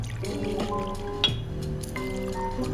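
Absolut Vodka poured into a bar measure for a Black Russian cocktail, a short rising gurgling fill with a small clink midway, close and clear, no talking over it.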